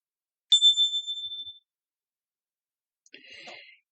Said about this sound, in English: Finally, Grandfather rang the gong to end the meditation.